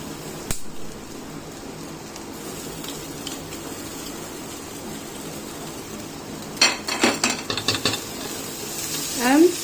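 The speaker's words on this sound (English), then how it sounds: "And saute everything." Ginger and spices being sautéed in a pan for an Indian chicken curry in tomato and coconut milk gravy, with a low steady sizzle and a burst of stirring and utensil scraping near the end.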